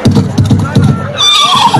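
A horse neighs in a loud, close whinny with a rising shaky call near the end, while a voice talks over the earlier part.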